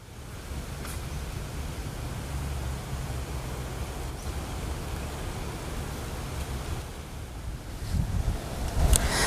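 A cool outdoor wind blows steadily across the microphone in rural Thailand, a continuous low rumbling rush that swells and gusts harder near the end, with no talking.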